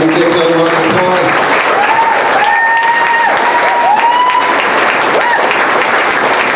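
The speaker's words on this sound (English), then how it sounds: "give them a round of applause." Audience round of applause at a ministry speaking event, steady crowd clapping under a voice and some tonal sounds, loud and continuous throughout.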